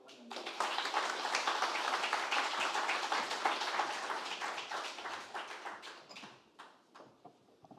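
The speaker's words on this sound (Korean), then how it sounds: "박수로 한번 더." Audience applause at a Reformed worship seminar, a dense sustained clapping that swells quickly, holds steady for several seconds, then thins into scattered claps before fading out.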